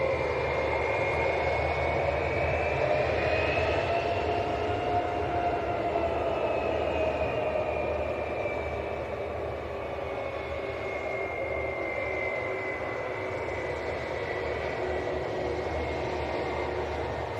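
Airliner from Parma taxiing at Leeds Bradford Airport, its jet engines giving a steady, fairly loud whine and rumble heard from a distance that holds for the whole stretch, with a slowly shifting tone and no voices.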